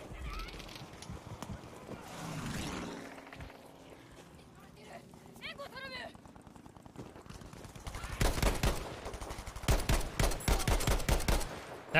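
Gunshots in the Iwo Jima Breakthrough video game, with scattered single shots early on and then a dense burst of rapid fire toward the end, mixed with other game sounds.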